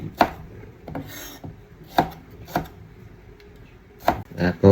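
Knife chopping tomato on a board for Ilocano dinengdeng with malunggay pods, a handful of sharp, separate chops spaced irregularly, close and fairly loud with quiet gaps between.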